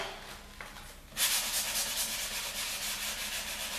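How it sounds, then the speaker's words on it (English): Coarse sandpaper rubs painted wood down to the bare surface during a chippy Vaseline paint finish, starting after a quiet moment and then continuing in steady, close, rhythmic scrubbing strokes. "a stronger sandpaper in some areas and getting all the way down to the wood"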